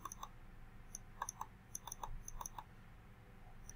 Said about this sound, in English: I click on submit